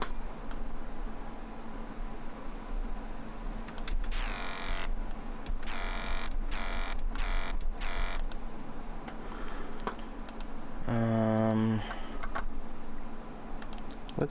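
A synthesizer patch with a pitch envelope plays a handful of short swept notes, spaced unevenly over a steady low hum, ending in a brighter sustained tone.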